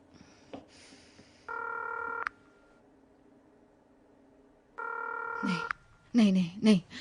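A telephone sounds two short bursts of steady dialing tones separated by a quiet pause, and a voice speaks briefly afterward.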